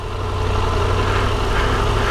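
A Triumph Tiger 1200 Rally Pro adventure motorcycle engine idles at 2,000 rpm, giving a steady, close, low throb that never changes.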